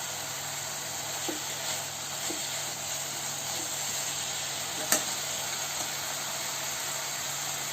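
Mustard seeds sizzling in a hot pan, a constant soft hiss with faint scattered crackles and one sharper tick near the end, no speech.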